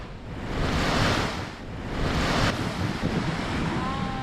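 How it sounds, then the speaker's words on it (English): Ocean waves wash onto a beach in the Gili Islands. Broad surf swells rise and fall in two long surges, mixed with heavy wind buffeting against the microphone. "We just made it to the beach"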